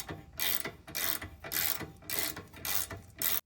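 Rapid ratcheting clicks from a ratchet tightening a nut on the rear shock of a 2018–2024 Honda Odyssey, in six evenly spaced bursts of fast, close mechanical clicking.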